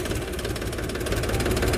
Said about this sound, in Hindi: इसकी स्टार्टिंग देख लीजिए किस तरह से ये ट्रैक्टर स्टार्ट होता है